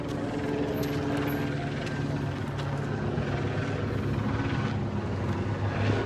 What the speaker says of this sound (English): Helicopters directly overhead now